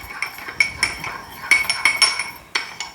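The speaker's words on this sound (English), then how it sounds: "To that, I'm gonna add a little bit of sesame oil and just a smidge of soy sauce. There we go. Give that a really good stir." A spoon stirring chili garlic oil with sesame oil and soy sauce in a small bowl, giving quick close clinks and taps against the dish in an irregular rhythm.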